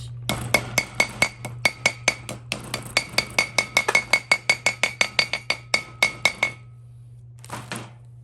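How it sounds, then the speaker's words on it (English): Rapid metallic tapping, a long run of sharp hammer strikes driving a bearing seal into place on a Chevelle, close and fairly loud, with a steady hum underneath and a brief pause near the end. "Try and hammer it all at once."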